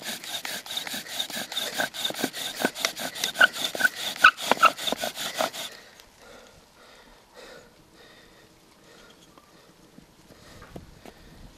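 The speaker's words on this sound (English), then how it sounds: "lift the spindle out of the socket again, and recommence drilling for a small while." A bow drill spindle scrapes back and forth in a wooden drill pit using damp materials, a fast rhythmic sawing rasp for about six seconds, then stopping, leaving faint scattered handling noises.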